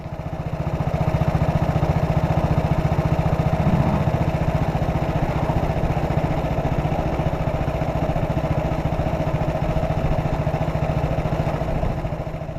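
A 70-year-old Panther Model 100 motorcycle engine runs steadily as the rider eases off the throttle, a constant mid-pitched drone with no speech.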